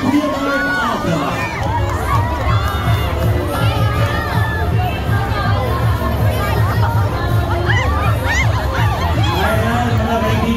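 A big crowd at the Lucena Grand Parade street festival cheers and shouts nonstop, with high children's cries and excited voices over a steady low rumble and thumping music.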